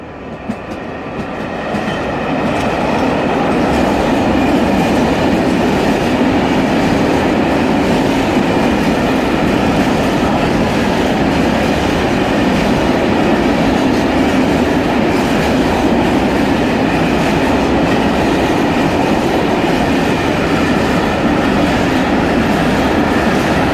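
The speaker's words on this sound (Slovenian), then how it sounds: "pa še počakajmo vlak, in to transportni vlak" A freight train in Slovenia carrying industrial goods rolls past on the rails, a steady loud rumble with rhythmic wheel clatter that fades in and holds for the whole stretch, with no voices.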